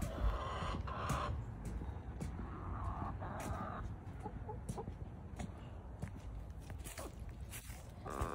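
Backyard chickens cluck and murmur softly nearby with scratchy footsteps in the background, a faint, steady farmyard chatter without people talking.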